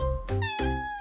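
A cartoon cat in a children's alphabet cartoon meows loudly and up close, two drawn-out, tuneful calls following one after the other with no talking.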